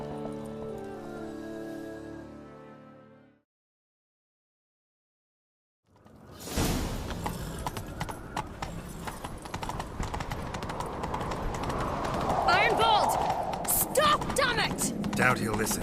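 Horses galloping in The Witcher 3, starting with a musical passage, then a pause of silence, then rapid, loud hoofbeats that build steadily and run under shouting voices and swishing action sounds.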